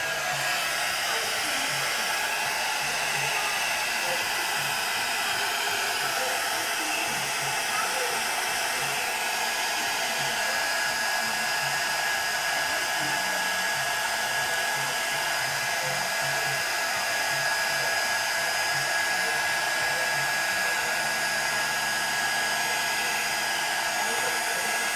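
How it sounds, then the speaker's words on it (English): A hair dryer blows steadily and loudly for the full length, drying a freshly finished wooden gate shadow box at close range, its even whooshing hum unbroken throughout. "I'm going to try to heat dry this real quick"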